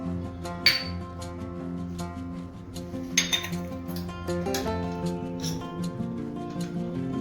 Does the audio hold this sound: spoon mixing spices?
yes